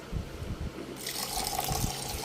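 Water being poured while a house is painted, a faint low splashing and trickle that grows into a steadier pouring hiss partway through, close by and quiet.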